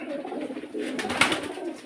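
Pigeons at a breeder's loft give soft, low cooing close by, then a brief louder flutter or rustle near the end.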